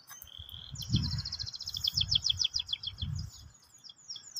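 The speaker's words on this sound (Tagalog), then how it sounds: "Kung yung naririnig, may mga tunog ng ibon." Birds sing at the entrance to a water garden in Manama, Bahrain, with a quick run of bright, high chirps and trills over low outdoor rumble and a few soft thumps.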